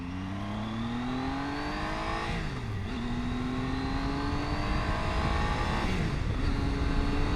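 Triumph Tiger 800 XCA 800cc motorcycle engine on a test ride, a steady loud drone whose pitch climbs through the gears with two brief dips at shifts, heard close and continuous.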